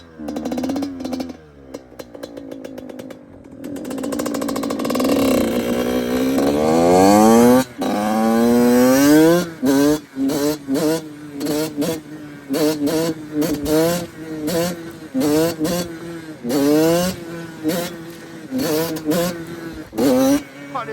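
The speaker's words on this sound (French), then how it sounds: "il y a des réglages carbu à faire parce que il y a des trous" An 85cc motorbike engine with a carburettor needing adjustment revs and climbs, then stutters through repeated bursts and dips as it stumbles. It sounds close and loud, with short gaps between throttle blips.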